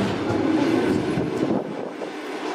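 A train pulls away from a station platform with a loud, continuous rumbling roar of rolling wagons that eases slightly near the end.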